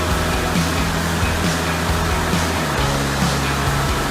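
Waterfall in Saraburi province, Thailand, pouring steadily in a loud, continuous broadband rush of water that stays close and unbroken throughout.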